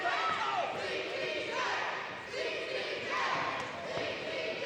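A boxing crowd chants "CTJ" for Chris "The Truth" Johnson in his 2019 bout against Will Fernandez, a dense, roaring arena chant that swells in repeated waves under a commentator's steady talk.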